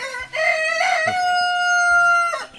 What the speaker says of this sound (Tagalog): mga malulusog na yung manok